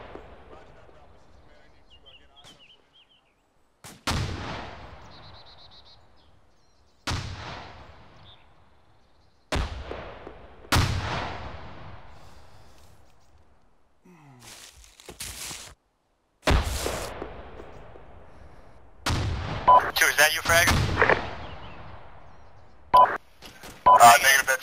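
In a military video game, heavy gunfire and artillery blasts crack out in separate loud bursts over roughly twenty-five seconds, each followed by a decaying rumble, with denser overlapping shots near the end and some radio-style talk between them.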